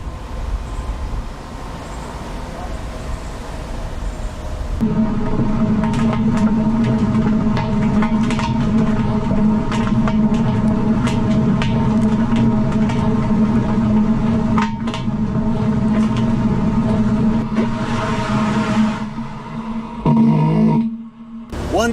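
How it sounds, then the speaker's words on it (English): Heard from a GoPro mounted inside a car tire while driving up a smooth street: after a quieter start, a loud steady roar and hum of rolling rubber with a low droning tone, continuous for about twenty seconds before briefly dropping away near the end. "I'm just gonna drive up this smooth street and just see what it looks like inside the tire on a smooth street with almost no bumps"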